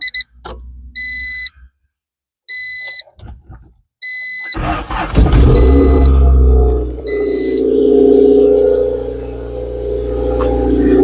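A 1988 Honda CRX Si engine with a cat-back exhaust starts up after a few beeps, then idles and revs with a loud, steady, rumbling exhaust drone that swells and settles, close by, with no talk.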